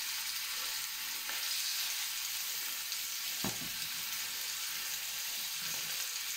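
Pork fillet searing in a hot pan, a steady, bright, crackling sizzle with a few soft clicks of the meat being moved, no voices.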